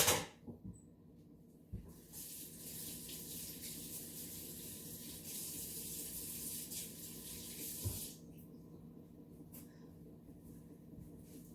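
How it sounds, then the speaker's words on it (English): Tap water runs steadily into a sink for about six seconds while hands are washed, opening and closing with faint clunks of the faucet, quiet and indoors. "Okay, had to wash my hands again"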